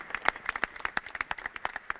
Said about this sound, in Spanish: Si van a dar el aplauso, lo dan, no hay problema.